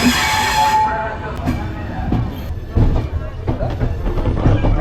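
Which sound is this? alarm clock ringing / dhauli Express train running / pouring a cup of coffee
dhauli Express train running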